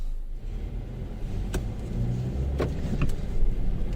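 A car rolls away from an ITV vehicle inspection station in Malaga after passing, a steady low engine rumble with a few clicks and knocks on top, moderately loud and close, no talking.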